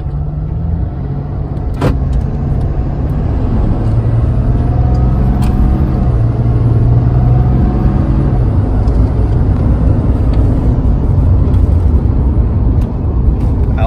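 A 4th gen Cummins 6.7L turbo diesel pickup accelerates from a standstill, heard from inside the cab with the windows up as a loud, continuous low rumble and turbo whir building over several seconds.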